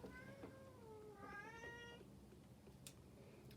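A small kitten meows in a run of drawn-out, pitch-bending cries at close range, followed by a few faint scuffling sounds, with no voices over it.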